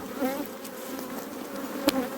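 Honey bees buzz around an open hive during feeding and splitting, a steady dense drone with individual bees whirring close past the microphone.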